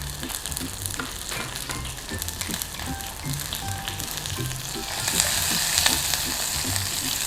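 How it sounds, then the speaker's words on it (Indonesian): Shallots or onions sizzle as they are stir-fried in a pan, a close steady frying crackle with scraping spatula taps scattered throughout, growing slightly louder toward the end. "ini kita tumis sampai dia lebih harum lagi bawangnya"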